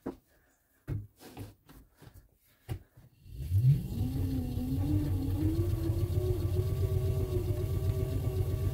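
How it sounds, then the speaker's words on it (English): A pedal-powered off-grid battery charger: a few light taps and clicks, then a steady mechanical hum that rises in pitch as the pedaling gets up to speed and holds, close and continuous. "So I'm going to leave that on there and I'm going to start pedaling."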